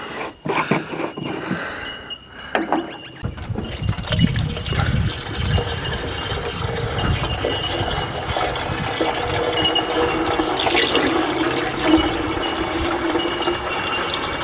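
Water drains out of an old abandoned truck with a continuous splashing, trickling rush after a few mechanical clicks and rattles at the start, close and fairly loud.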